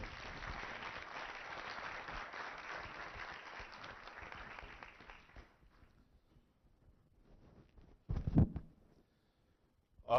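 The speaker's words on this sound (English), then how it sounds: "Big round of applause." Audience at an East African business summit applauds steadily for about five seconds, the clapping fading into quiet room noise, followed by a brief loud thump and a short burst of sound at the end.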